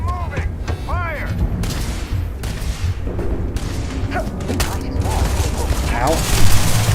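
Gunfire in the video game Starfield, loud rapid bursts of shots and booming impacts in a continuous firefight, with shouting voices over the shooting.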